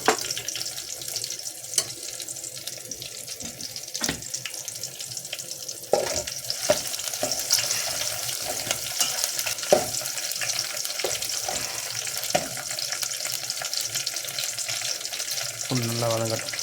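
Garlic sautéing in a pan for a South Indian green gram dal: a steady, close sizzle and hiss runs throughout with scraping stir strokes and clinks, a brief watery splash near the end, no talking.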